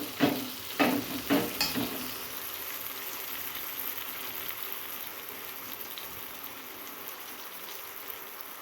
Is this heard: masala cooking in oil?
yes